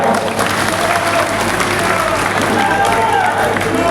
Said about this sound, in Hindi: प्रधानमंत्री और गडकरी जी के लिए तालियों के गड़गड़ाहट।